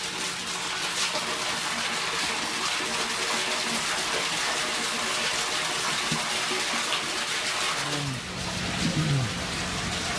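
Steady broadband rush of water pouring into an aquaponics fish tank in Haiti, continuous and fairly close throughout, with faint splashing and bubbling near the end and no talking.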